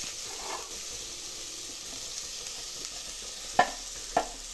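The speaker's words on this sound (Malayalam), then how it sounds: "ഞങ്ങൾ ഇളക്കുക കേട്ടോ" Chili powder and turmeric stirred in a frying pan, a faint steady hiss with two sharp scrapes of the spoon near the end, no voices.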